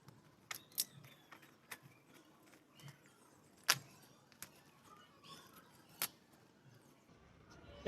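A knife slices open a plant delivery package in a series of faint, sharp cuts, tears and rustles spaced irregularly, close by and quiet.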